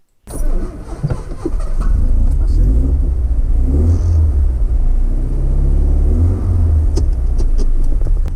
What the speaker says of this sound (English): I would like to have a drive in the car around the farm